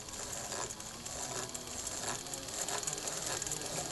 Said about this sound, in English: that's skipping, that's the belt riding up on the side of the puller